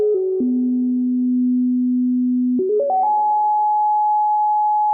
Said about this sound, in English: we just output sound from this module to the mimeophone to add some nice reverb